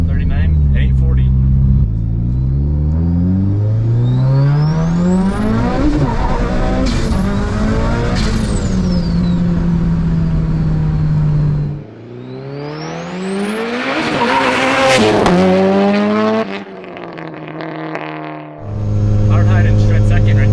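A 700whp Mitsubishi Evo pulls hard through the gears with wheels spinning, the engine note climbing in loud rising sweeps, with sharp drops at each shift and a squealing whine near the top of each pull.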